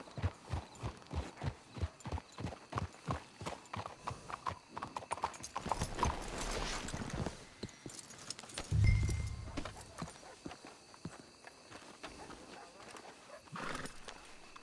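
Horse hooves clip-clop in a steady rhythm in the video game Red Dead Redemption 2, then slow and stop; a horse snorts and whinnies, with a few scattered hoof steps afterward.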